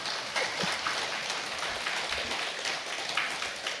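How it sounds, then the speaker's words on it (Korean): Audience applause in a Won Buddhist temple hall during a sermon, steady dense clapping from many hands held at an even level throughout, with no talk over it. "박수를 쳐주셔도 좋겠습니다"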